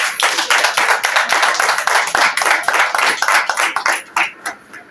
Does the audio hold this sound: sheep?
no